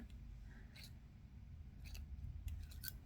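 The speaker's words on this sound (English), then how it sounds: "And then snip that off" Wire cutters snip through thin aluminum wire while a crystal suncatcher is being made, giving a few quick, faint, sharp clicks close by with no talking.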